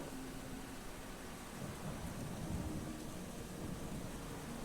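Steady rain with a low thunder rumble fills the Eschalon Book 2 game world, a faint, continuous wash of noise swelling slightly midway, with no voices.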